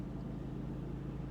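A Daewoo Matiz, a cheap used budget car, idles with a steady low engine hum and faint rumble, continuous and fairly quiet throughout, no talking.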